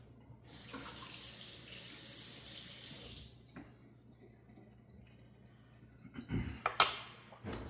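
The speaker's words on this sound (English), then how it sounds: "let's rinse off our adobo spoon real quick" A kitchen tap runs to rinse an adobo-coated spoon, a steady close splash for about three seconds, then stops, followed by a few wet clinks and drips as the spoon is handled at the sink.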